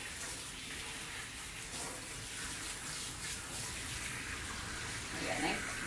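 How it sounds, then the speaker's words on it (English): Water from a faucet or sprayer runs in a steady stream, rinsing a cat during a bath, with a faint voice underneath. "Rinse him off."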